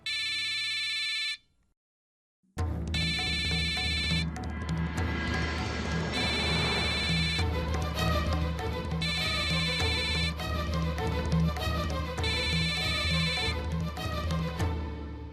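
A mobile phone rings with a repeating electronic melody, loud and steady, in a Hindi TV drama scene, after a brief silence at the start.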